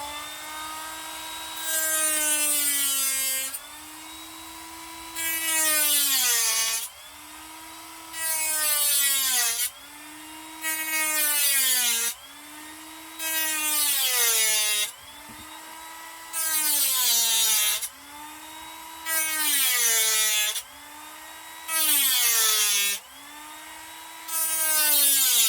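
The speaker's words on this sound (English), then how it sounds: "let's fire up the Dremel" Dremel rotary tool cutting through webs in repeated bursts, each a high whining spin-up that dips in pitch under load and then winds down, about ten evenly spaced cuts close by with no talking.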